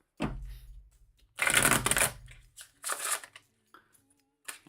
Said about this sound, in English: Let's do a shuffle real quick.